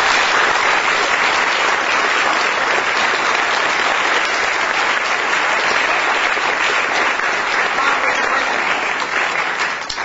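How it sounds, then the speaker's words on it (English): An audience at the Kate Stoneman Day event gives honorees a long, sustained round of applause, a dense, even roar of many hands clapping for about ten seconds, tapering slightly at the very end. "If you would all join me in just one complete round of applause for these incredible Kate Stoneman."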